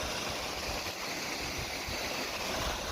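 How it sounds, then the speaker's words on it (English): Small waterfall on a hillside stream during a moorland walk, a steady broadband rush of falling water, close and continuous, with no voices. "A bit of a waterfall for you."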